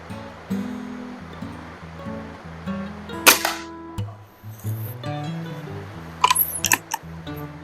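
A BSA Meteor Super air rifle fires sharp, snappy shots, one cracking out clearly and another brief cluster of clicks later, over a low tonal background.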